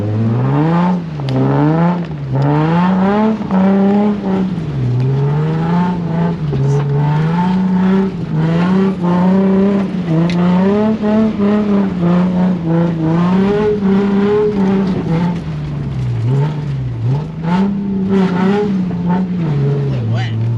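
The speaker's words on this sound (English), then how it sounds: "Really wet. Don't get bogged. Just spinning the tires, going nowhere." A drifting car spins its tires on soaked, boggy ground, engine revving hard in long sustained waves with rising and falling pitch, loud and close throughout, while people talk over it.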